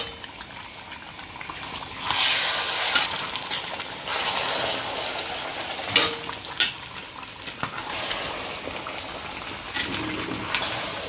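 Biryani masala with ground cumin and dried plums being stirred in a pot, scraping and sizzling in uneven bursts with occasional clanks of the spoon against the metal.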